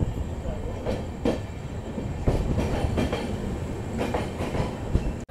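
Humsafar Express passenger train running on rails near Farakka, heard from inside a rear coach: a steady rumbling roll with rhythmic clickety-clack wheel beats over rail joints, loud and continuous, with faint voices underneath.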